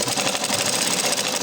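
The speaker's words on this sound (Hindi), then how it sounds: "आपको मैं दिखाती हूँ कैसे हमने यहाँ पर सिलाई लगानी है।" A sewing machine stitches fabric for a girl's frock bodice, a loud, close, rapid rhythmic mechanical chatter that runs steadily and alone.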